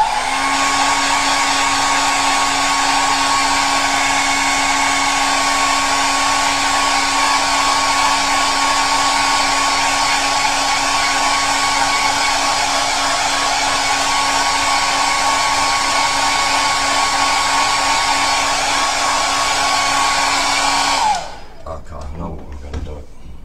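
A hair dryer blows steadily and loudly for about 21 seconds, drying a wet gel plate print made with paint, then cuts off, leaving brief handling noises.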